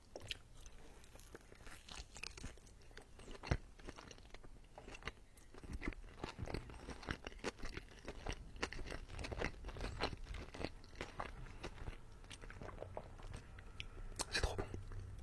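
Day-old McDonald's fried chicken eaten close to the mic, with repeated sharp crunches of the breading and moist chewing throughout, a soft murmur now and then underneath.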